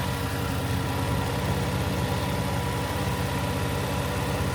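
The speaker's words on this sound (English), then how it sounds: "It's idling." A drift project car's engine idles steadily nearby at operating temperature, a low continuous rumble with a faint rhythmic pulse and no voices.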